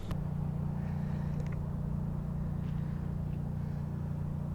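A border guard patrol boat engine in good condition runs at a steady idle, a continuous low droning rumble close by with no breaks and no voices.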